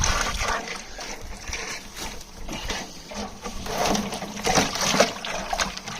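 Water trickles and splashes steadily through a float valve on a pasture water line, with a faint mechanical hum and small sputters; no talking.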